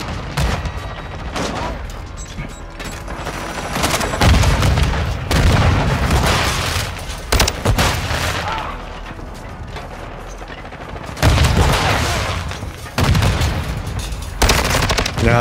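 Rapid bursts of HCR56 automatic gunfire from Call of Duty MW2 in loud, repeated volleys with brief pauses, several sustained strings of shots and booming impacts, with faint speech in the mix.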